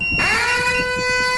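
A gas leak detector's alarm buzzer sounds loud and steady, a harsh continuous electronic tone with rich harmonics that begins abruptly after a brief moment and holds.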